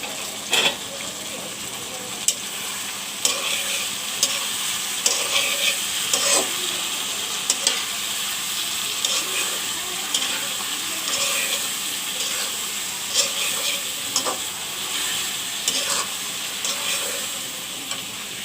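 Tilapia fries in a pan with turmeric, coriander and salt added, producing a continuous hissing sizzle with scattered sharp spatula knocks and scrapes, no speech.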